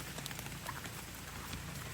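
Heavy rain falls beside a stream in the woods, a steady, faint, even hiss of drops pattering on leaves and water with no voices.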